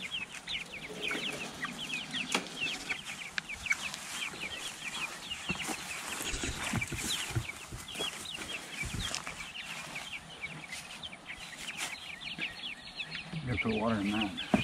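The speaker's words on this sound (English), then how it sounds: "Go on, little chickens." Chickens cluck and chatter continuously nearby around a chicken tractor, a busy layered flock sound with brief human voices mixed in.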